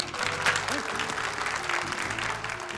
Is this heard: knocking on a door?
no